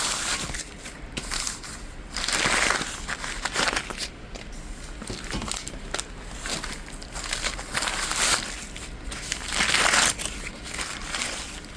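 Cardboard and plastic packing around the chrome parts of an office chair crinkle, crunch and rustle in close, uneven bursts while it is unboxed, with no talk.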